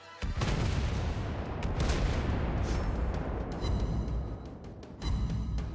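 A heavy, booming salvo from warship main guns in the naval game World of Warships, loud and close, rolling out into a long rumbling decay before a second blast near the end.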